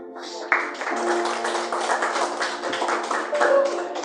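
A church congregation claps together in worship, many hands beating fast and dense for several seconds, with a sustained organ or keyboard chord ringing underneath and voices faintly mixed in.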